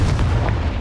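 A Confringo blasting spell explodes in the Hogwarts Legacy video game, a loud, dense low boom that fills the whole brief moment with a rumbling burst.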